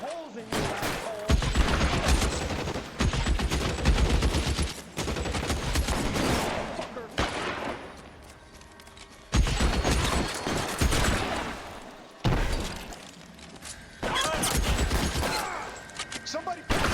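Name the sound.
gunfire in shootout, from video game LA Noire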